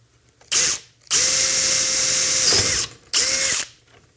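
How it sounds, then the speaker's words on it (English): A power drill with a 17/64 bit bores through a metal chassis in three close, loud bursts: a short spin-up, a long steady whine, then another short run, with pauses of silence between them. "I'm going to go ahead and use the 1/4-inch bit or the 17/64 drill bit directly."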